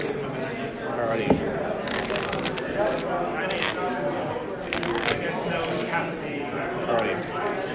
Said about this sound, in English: I will shuffle my deck.